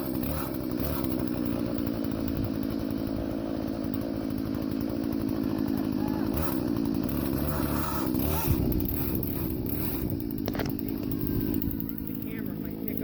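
A Husqvarna 120 38cc chainsaw with a 14-inch bar runs steadily close by, throwing bar oil, its buzzing two-stroke engine droning at a fairly even pitch with slight rises and dips.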